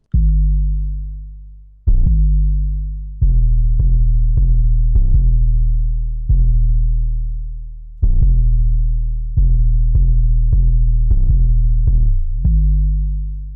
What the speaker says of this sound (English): we have the 808, which is going to sound like this